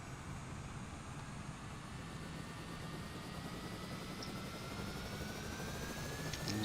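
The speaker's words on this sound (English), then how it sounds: "Engine starting up, folks." A single aircraft engine starts up and runs in a flight simulator game, giving a steady, continuous drone with a faint rising whine that holds at an even level throughout, with no voices.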